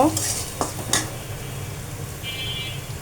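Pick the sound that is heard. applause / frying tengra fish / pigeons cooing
frying tengra fish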